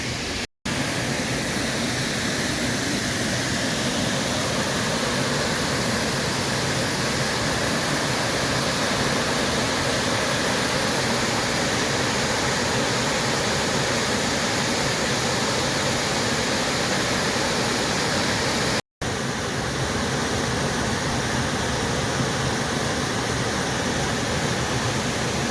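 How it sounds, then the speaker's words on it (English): Steady, loud rushing water of Doane's Falls waterfall in Massachusetts, a continuous broadband roar with no talk over it, briefly cut by two short dropouts. "And the sound of rushing water continues above the middle and upper falls."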